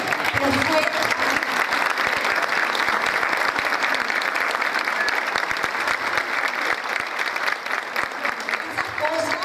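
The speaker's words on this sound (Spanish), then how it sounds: "Quiero que le demos un fuerte aplauso a Amparito" Dense, sustained applause from a fashion show audience honoring a performer named Amparito, loud and continuous throughout with crowd murmur mixed in.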